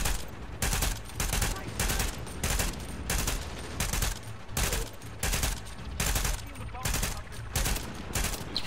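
Video game gunfire crackles in steady repeated bursts of rapid shots, about a dozen short volleys with brief gaps between, fairly quiet and continuous.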